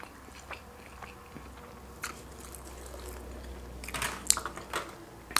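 A BBQ brisket sandwich is bitten and chewed close to the mic, with soft, squishy crunches and smacking in a loose, irregular rhythm that builds near the end.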